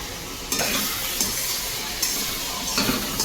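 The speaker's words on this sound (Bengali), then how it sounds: "এই যে রাঁধুনি করছে মাটন সবে মশলা কষানো হচ্ছে" Mutton frying with masala sizzles loudly in a pan, the steady hiss punctuated by a few scraping stirs of a spoon against the metal.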